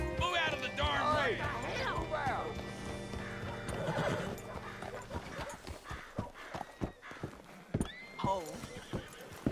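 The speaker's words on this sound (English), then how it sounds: "Hitch your horse up here." A horse in Red Dead Redemption 2 whinnies loudly and repeatedly, close by, with clip-clopping hooves underneath and voices talking in the background as the calls fade into scattered hoof knocks.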